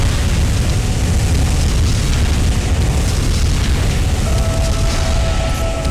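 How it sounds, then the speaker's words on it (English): Dense, continuous roar of shelling explosions in the video game Armored Core Nexus, loud booms merging into a steady wall of sound for several seconds. "Because it's raining explosions."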